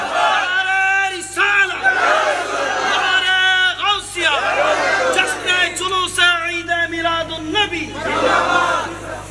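A large religious gathering shouts the takbir, Allahu Akbar, in unison in response to a preacher's call during a Bengali waz sermon: loud, massed chanting voices rising in repeated waves, close and reverberant.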